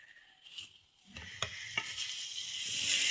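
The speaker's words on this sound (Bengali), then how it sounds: "তা মাছগুলো আগে কষাই নিচ্ছি।" Fish heads sauté in a smoky pan with quiet, uneven sizzling and a few sharp scraping stirs, growing louder toward the end; faint and close, without talk.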